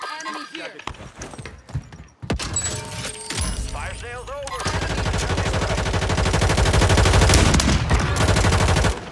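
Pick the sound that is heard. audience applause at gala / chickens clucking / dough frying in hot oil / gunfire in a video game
gunfire in a video game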